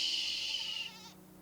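A single drawn-out sheep bleat from the video game Reka, fairly loud and close, fading out after about a second over a low ambient hum.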